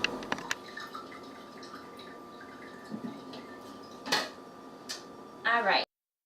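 Kitchen sounds of a coffee pot being washed and water drawn for a coffee maker: scattered drips, clinks and light knocks, a short burst of running water, then a louder gush near the end.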